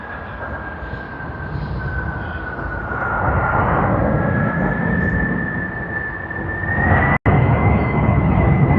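A yellow DHL cargo aircraft at Sydney Airport rumbles loudly and steadily with a sustained whining engine tone that swells slightly partway through.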